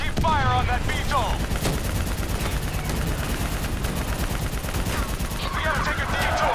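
Sustained automatic gunfire in the video game Call of Duty Black Ops III, rapid dense bursts of machine-gun shots filling the scene, with shouted voices over the battle.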